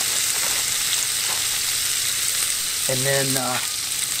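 Frozen O'Brien potatoes fry in bacon grease in a skillet with a loud, steady, hissing sizzle, and a brief spoken phrase comes near the end.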